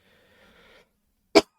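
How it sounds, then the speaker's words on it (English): A single sharp cough, loud and close, bursting out after a brief faint murmur of a voice. "Apart from a coughing fit."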